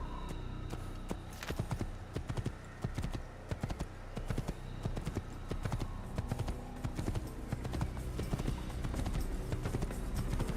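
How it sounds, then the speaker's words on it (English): Steady clip-clop of horse hooves walking at an even pace, close by, with occasional heavier thuds mixed in; no talking. Video game sound from Assassin's Creed. "I'm gonna grab a horse and walk around a little bit"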